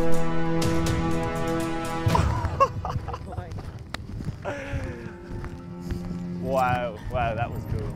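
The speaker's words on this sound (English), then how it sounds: "there's a horse going to jump over you right now coming from this way" Horse galloping toward a ground-level spot and leaping over it, hooves thudding briefly under a voice as it passes close by.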